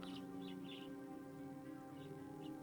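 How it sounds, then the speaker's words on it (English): Faint, distant birds chirping outdoors in open green fields, short twittering calls returning every second or so over a steady low hum. "If you can hear those beautiful birds chirpings"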